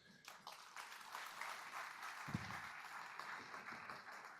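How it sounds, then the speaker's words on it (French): A hall audience applauds after a New Year's address by the mayor of Dreux, France, a steady wash of many hands clapping at a moderate distance, sustained and fairly soft throughout. "je voudrais qu'on puisse les applaudir"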